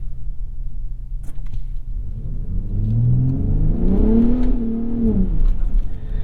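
A 2021 Ford F-150 Raptor engine while driving in two-wheel drive: a low, steady rumble builds into a rising, revving growl that peaks and eases off, loud and close inside the cab.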